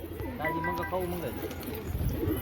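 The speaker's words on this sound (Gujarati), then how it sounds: "એ આપણા જૂના કબૂતર છે" Pigeons cooing softly in a household loft, with low rolling coos from a few birds heard close. People talk over them throughout.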